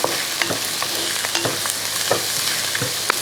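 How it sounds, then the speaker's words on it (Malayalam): Small shallots stirred and sautéed in a pan for a brinjal curry, a dense steady sizzle broken by repeated light spoon scrapes and knocks against the pan. "അപ്പോൾ ഇതെല്ലാം കൂടെ നന്നായിട്ടൊന്ന് വഴറ്റിയെടുക്കാം"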